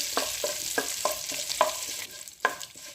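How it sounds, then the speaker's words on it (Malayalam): Mustard seeds, dried chilies and curry leaves crackle in hot ghee skimmed from yogurt as they are stirred, close-up sizzling with repeated sharp pops and spoon scrapes, no talk. "ഇതിലേക്ക് കടുകിടാം വറ്റൽമുളകിടാം കറിവേപ്പിലിടാം നല്ലതുപോലെ ഇളക്കി"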